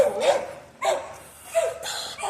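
Dogs bark outdoors in a few short, sharp bursts, moderately close and fairly loud.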